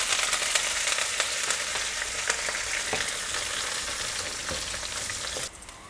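Chopped onions and curry leaves fry loudly in hot oil with whole spices, star anise among them, for a jackfruit seed curry, giving a dense continuous sizzle with scattered crackles and pops until it cuts off abruptly.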